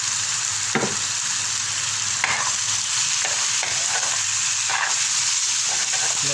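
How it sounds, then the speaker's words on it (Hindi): Chicken frying with onion in a hot pan, a steady loud sizzle broken by several scraping stirs of the spatula at irregular intervals, with no talking. "थोड़ा प्याज के साथ भूनेंगे"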